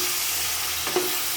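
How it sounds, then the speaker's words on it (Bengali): Chopped tomato tipped into a hot frying pan for a chicken curry, a dense continuous sizzle heard up close with a brief clatter near the end, no voices. "এখন আমি টমেটো কুচিটা ঢেলে দিচ্ছি"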